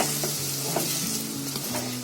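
Gram flour and spices fry in a pan of misal gravy, giving a loud, continuous sizzle up close, with a spoon stirring and scraping through it in a loose rhythm.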